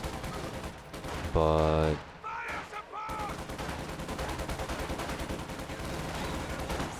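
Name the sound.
gunfire from units shooting at a building in a video game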